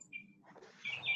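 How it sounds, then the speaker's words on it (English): Bird chirps sound outdoors, brief and fairly faint, with a couple of higher calls toward the end over low background noise. "All I hear is chirping."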